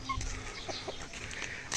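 Chicken clucking in a backyard being cleared and fenced for a vegetable garden, a few brief, soft clucks over steady outdoor background noise.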